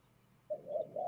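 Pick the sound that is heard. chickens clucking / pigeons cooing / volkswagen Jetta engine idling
pigeons cooing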